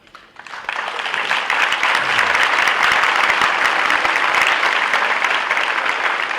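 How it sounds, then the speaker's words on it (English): Steady, loud applause from an audience at a chancellor's opening session rises quickly and continues throughout without letup. "I was going to say hold your applause, but to be consistent, I guess just keep it going"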